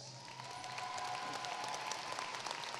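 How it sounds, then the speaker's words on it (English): A commencement audience gives a round of applause, a steady, fairly faint spread of clapping from a large crowd with a few scattered cheers, heard at a distance with no talking over it. "Give her a round of applause."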